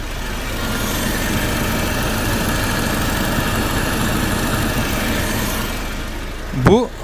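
A FAW Tiger truck engine converted to run fully on methane gas idles with a steady mid-to-low rumble and vibration, close and constant, ending with a brief louder burst at the end.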